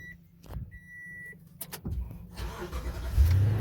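A Toyota Tundra pickup truck bought cheaply from a salvage auction starts up and pulls away. The engine and road noise build from quiet into a steady, close rumble, with a brief whine and a couple of clicks early on.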